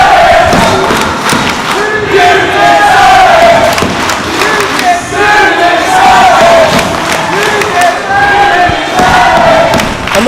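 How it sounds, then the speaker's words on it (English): A wrestling arena crowd chants in loud, rhythmic unison and cheers throughout, with occasional thuds and whoops mixed into the steady roar. "the crowd chanting what we're all thinking, you deserve it"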